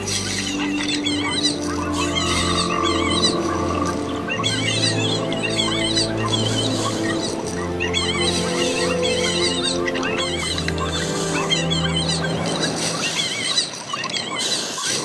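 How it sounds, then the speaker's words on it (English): Newly hatched Prosaurolophus dinosaur chicks call frantically for food, a dense chorus of honking, chirping calls over a low droning music bed, loud and continuous. "hatched Prosaurolophus chicks call frantically for their mothers to provide them with food"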